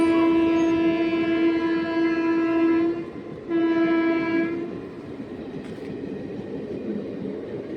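A train passes close by with a loud, sustained horn blast lasting about three seconds, a brief break, then a second shorter blast, followed by rumbling wheel noise as it moves away.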